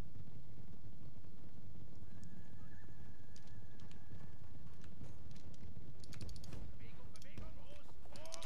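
Cavalry horses ride across the battlefield in Medieval 2 Total War, with whinnies, hoof clops and scattered clicks over a steady low rumble of game ambience. The sounds grow busier toward the end.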